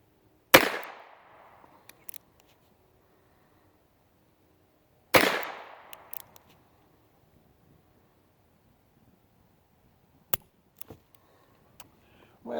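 Two sharp, loud revolver shots from an H&R Model 925 chambered in .38 S&W, about five seconds apart, each with a short ringing tail outdoors, followed by several faint clicks and small knocks.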